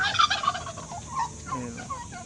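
Turkeys gobbling on a Philippine poultry farm, a loud burst of several overlapping gobbles at the start and a quieter gobble near the end, with no talk.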